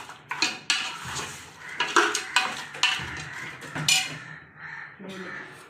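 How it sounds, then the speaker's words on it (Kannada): Goat head meat with turmeric is stirred in a pot for a village-style mutton head sambar, metal spoon scraping and clinking against the vessel in irregular strokes, close up, with faint sizzling and a voice talking. "ಅರಿಶಿನ ಹಾಕ್ಕೊಂಡು ಚೆನ್ನಾಗಿ ತಿರ್ಸ್ಕೊಳ್ಳೋಣ."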